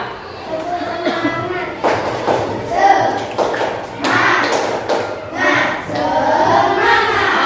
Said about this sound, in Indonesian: ini namanya tepuk semangat